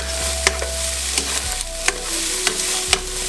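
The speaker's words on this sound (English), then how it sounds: "to the onions and garlic, I'm gonna add a half a cup of cabbage. Let that cook." Raw cabbage cooks with onions and garlic in a frying pan for lo mein. A steady close sizzle runs throughout, with a few sharp utensil scrapes and clacks as the pan is stirred; no one speaks.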